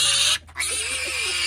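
A pig squeals loudly and continuously while being picked up on a farm, the shrill cry broken by a brief pause before resuming just as loudly.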